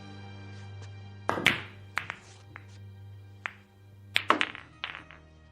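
Pool balls in a radio drama: a series of crisp clacks and knocks as the cue strikes and balls collide, in two clustered bursts with scattered single taps, close and clear over a low hum.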